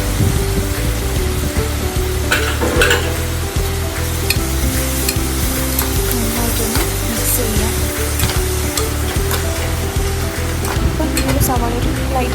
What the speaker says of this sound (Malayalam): അതിലേക്ക് നമ്മൾ ഇനി അരിഞ്ഞ് വെച്ച സവാള, അതുപോലെ തക്കാളി, പിന്നെ ഇഞ്ചി, വെളുത്തുള്ളി, അതുപോലെ പച്ചമുളക് ചതച്ചത് കൂടി ഇട്ടിട്ട് നന്നായിട്ടൊന്ന് മിക്സ് ചെയ്തിട്ട് കൊടുക്കാം.